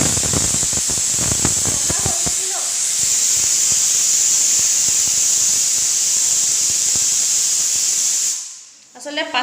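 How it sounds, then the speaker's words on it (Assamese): A kitchen pressure cooker whistle releasing steam: after some clattering, a loud, continuous high hiss runs for about six seconds, then cuts off abruptly. "আসলতে এটো প্ৰেসাৰ কুকাৰত কেটা সিটি মাৰাব লাগিব"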